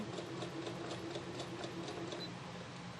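A sewing machine stitches a quilt block, its needle running in a quick, even mechanical rhythm for several seconds, faint and alone with no voices.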